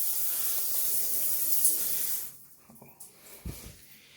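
Water pours from a rain shower head in a renovated bathroom, a bright steady hiss for about two seconds that then cuts off, leaving a few faint knocks.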